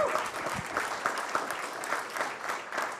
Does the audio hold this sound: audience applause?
yes